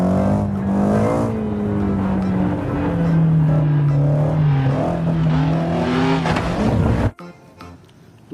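A toy race car makes a revving, engine-like whine that rises and falls in pitch for about seven seconds, close and fairly loud, then cuts off abruptly into near silence.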